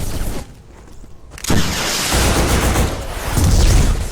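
A loud roaring burst of gunfire and blast noise from a first-person shooter, Black, breaks off briefly, then returns as a sustained heavy rumble with a rocket-like boom swelling near the end, close and dense.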